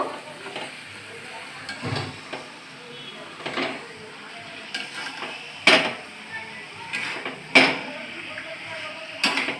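Chicken cooking in a pan with fried potatoes gives off a low, continuous sizzle, with scattered spoon scrapes and a couple of louder metallic clanks.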